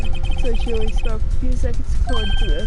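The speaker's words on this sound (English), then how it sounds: "I heard a phone ring just now." A phone ringtone from the video game Phoenix Wright: Justice For All plays as a bright, repeating electronic melody with a pause before it restarts, while a person talks over it.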